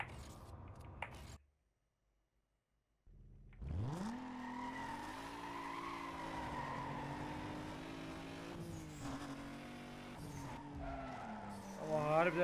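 A Toyota Supra in the video game Need for Speed Most Wanted roars in with a sustained engine drone and squealing, skidding tires after a brief silence, holding a steady, loud pitch throughout.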